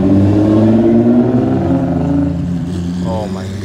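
A McLaren sports car revs its engine while pulling away from an exotic car meet, a loud, close, steady roar that fades slightly near the end, with people talking over it.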